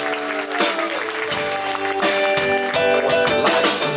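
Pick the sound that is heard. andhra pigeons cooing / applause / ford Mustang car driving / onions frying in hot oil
applause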